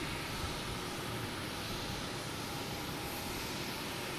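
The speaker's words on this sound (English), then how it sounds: "Oh, JetBlue heading to JFK. A220." A JetBlue Airbus A220 jet departs Boston Logan Airport bound for JFK, a faint, distant, constant engine roar and hiss that stays level throughout, with no talking.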